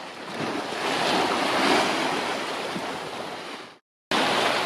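Big ocean waves surge and wash around a sailboat out at open sea, a loud continuous roar of surf mixed with wind buffeting the microphone, cutting out briefly before resuming.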